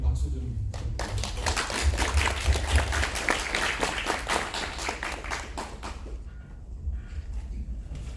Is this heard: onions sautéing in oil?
no